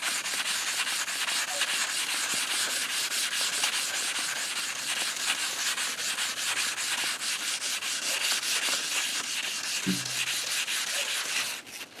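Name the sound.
lightly rubbing the piston skirt to smooth it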